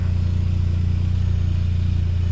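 A Volkswagen Golf Mk5 GTI engine idles steadily with strong low rumble and noticeable vibration, running on E40 fuel without balance shafts; a constant, close, even drone with no talk.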